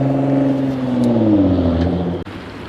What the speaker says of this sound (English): Too many cars here.